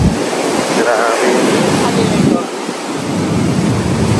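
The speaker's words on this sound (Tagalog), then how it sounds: "Alon." Stormy ocean waves crash and surge continuously with heavy wind buffeting the microphone, loud and close, while a voice speaks briefly over the roar.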